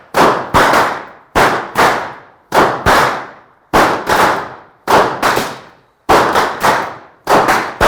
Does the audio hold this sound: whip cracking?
yes